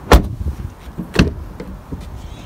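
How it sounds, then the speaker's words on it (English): Power-operated rear sliding glass on a 2019 RAM 2500 Big Horn pickup truck, heard as two sharp, close thumps about a second apart with softer mechanical clicks after them, with no talking. "They do give you a power sliding mirror, power sliding glass in the rear."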